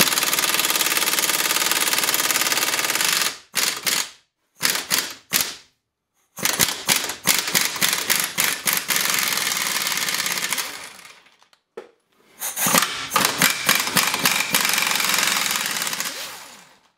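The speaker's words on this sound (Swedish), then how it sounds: "Och det vi får göra nu är att släppa på de här 2 bultarna." An impact wrench rattles in long, loud hammering bursts with short gaps between them while two bolts are loosened on the wheel hub of a 2000–2008 Volvo V70, close by and with no talk.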